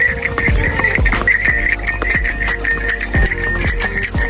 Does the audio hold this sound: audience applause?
no